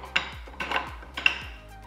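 Metal parts of a Cabela's Carnivore 3/4 HP meat grinder clink together during assembly, three distinct close clanks and scrapes with short ringing tails, no talking.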